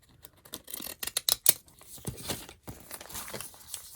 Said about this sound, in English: I'm going to use these scissors and take off part of this flap here.